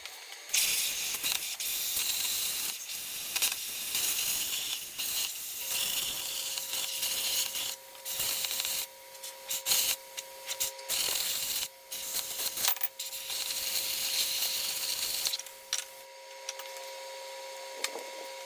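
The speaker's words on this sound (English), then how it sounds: "grab the plasma cutter and make a hole in the frame" Plasma cutter piercing a hole in the frame of a 1937 Master Deluxe during a chop and chassis swap, a steady harsh hiss running almost without a break for the whole stretch, close and loud, with small dropouts and no talking.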